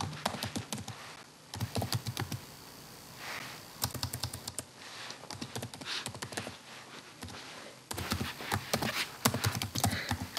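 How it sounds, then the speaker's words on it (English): An email address is typed on a computer keyboard in quick, close, irregular runs of crisp key taps with brief pauses between bursts. "So type in your email ID."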